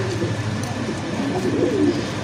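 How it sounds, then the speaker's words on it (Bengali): A male black-laced satin pigeon coos in a close, low, rolling call repeated several times over steady background noise. "মাশাল্লাহ খুবই সুন্দর একটা নর কবুতর, ব্ল্যাক চেকের ভিতরে, সরি ব্ল্যাকলেস শার্টিনের একটা নর কবুতর, খুবই অ্যাক্টিভ"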